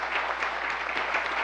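Audience applause at a business leadership event, a steady dense wash of clapping throughout the short stretch, close and even in level with faint voices mixed in.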